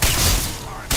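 Rapid weapon fire at a Krogan in Mass Effect 2 Legendary Edition makes a dense, booming volley of shots, close and loud, running almost without pause for about a second.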